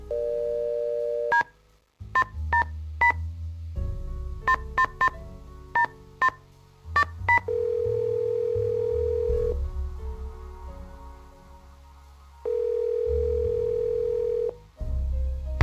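In the Nancy Drew video game Secrets Can Kill, a telephone plays rapid touch-tone dialing beeps in quick runs, with a steady dial tone humming before and after them and a low background hum throughout.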